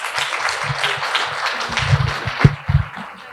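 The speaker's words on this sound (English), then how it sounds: "please give her a big round of applause." Audience applause welcoming a speaker at a panel discussion on cybersecurity and careers, moderate clapping from a crowd with bumps and knocks from a nearby microphone near the end.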